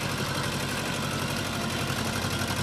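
Steady, close idling of a Swaraj 724 XM Orchard mini tractor engine, a continuous low rumble with a dense mechanical chug and no talk.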